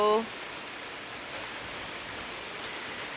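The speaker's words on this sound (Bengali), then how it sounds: "তীব্র দাবদাহের পর এই বৃষ্টি" Rain falls after an intense heatwave, soaking a parked car outside; it is a steady, even hiss with a faint drop or two, after a brief tonal sound at the very start.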